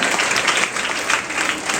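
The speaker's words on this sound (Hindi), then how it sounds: "इसके लिए ताली बजाइए।" An audience of students applauds during a motivational lecture at a school, a dense, steady wash of many hands clapping at once, loud and sustained without pause.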